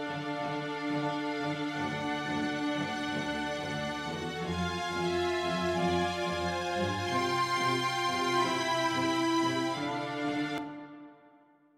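Sustained orchestral strings bathed in hall reverb, brightened with a top-end boost and a cut around 110 hertz, playing rich harmonic chords for several seconds before stopping and letting the tail decay; no voices.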